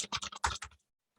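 Quick bursts of typing on a computer keyboard while entering names into a Word document, about eight close, crisp keystrokes in rapid succession, then silence.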